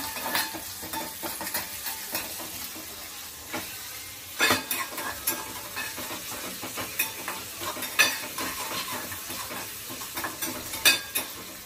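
Sliced onion and slit green chillies fry over a high gas flame, with a constant loud sizzle under frequent irregular stirring scrapes and clinks of a spoon on the pan.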